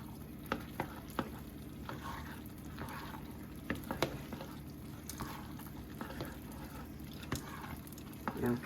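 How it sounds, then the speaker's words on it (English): Drained pasta is stirred into a three-cheese sauce for mac and cheese, a soft continuous wet squelching under a low background hum, broken by a few sharp clicks of the spoon against the pot. "I'm going to take the drained pasta and put it in with the cheese sauce. And then I'm going to give that a good stir"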